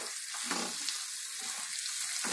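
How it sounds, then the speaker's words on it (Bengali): Pumpkin and potato curry sizzles in ghee in a pan while being stirred, a steady bright frying hiss with soft scraping strokes of the spoon, fairly quiet and close. "ঘি দিয়ে ভালো করে আমি একটু নাড়াচাড়া করে দেবো।"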